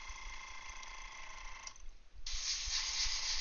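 An airbrush being back-flushed with cleaner while a Gunpla model is painted, a steady hiss that drops out for a moment and then returns louder and bubblier, close up, with no voices.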